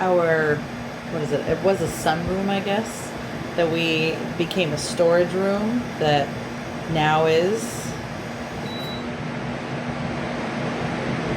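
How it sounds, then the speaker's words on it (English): A new portable air conditioner runs in a small back porch room that once was a sunroom, now a storage space, its steady droning hum continuing beneath people talking. "That is the sound of our new portable air conditioner inside of"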